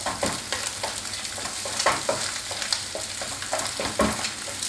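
Thai scrambled egg seasoned with salt is stirred in a hot pan, a close sizzle broken by repeated quick spatula scrapes in a brisk rhythm, no talk.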